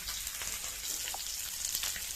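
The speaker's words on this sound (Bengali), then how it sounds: "আমি মাছগুলো দিয়ে দিয়েছি। দিয়ে আমার মাছগুলোকে ভেজে নেব" A soft, steady sizzle of tangra fish frying in oil, continuous and fairly quiet, with faint crackles scattered through it.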